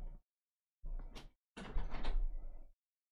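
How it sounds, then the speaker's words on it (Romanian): A window is slid shut in a room in three separate bursts, a short scrape, then a longer rolling slide, then a louder drawn-out grinding push with a thud, silence between each. "stați așa că mă duc să închid geamul."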